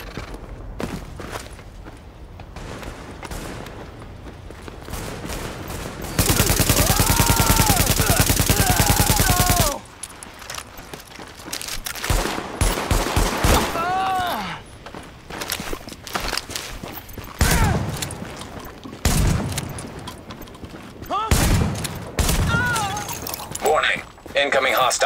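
Automatic gunfire and single shots crackle in Tom Clancy's The Division at Hudson Yards, including a sustained dense burst, mixed with footsteps and a game voice announcing warnings.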